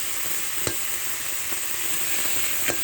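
Sundarbans dashi crab with taro (mann kochu) frying in a pan, giving a steady close-up sizzle with a few soft stirring clicks and no talk.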